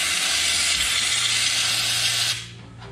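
Rust-proofing fluid sprays from a hose wand into a bus body in a loud, steady hissing burst lasting a couple of seconds before cutting off abruptly to a low background hum.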